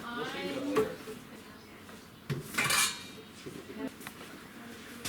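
Dishes and bowls clatter and clink as they are handled, several separate knocks and scrapes, with some talking underneath.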